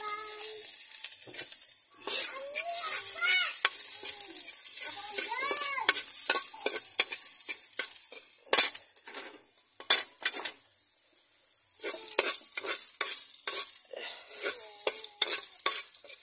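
Garlic frying and sizzling in a pan, stirred with a utensil that scrapes and clinks against the pan in repeated bursts. A faint cat-like cry surfaces in the middle.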